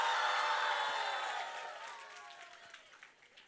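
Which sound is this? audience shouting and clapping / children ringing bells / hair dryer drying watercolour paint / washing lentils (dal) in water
audience shouting and clapping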